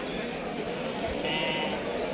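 Native sheep bleating at the weekly Kirgol livestock market, a steady crowded din of animals and voices throughout, with a louder bleat rising midway amid constant background chatter.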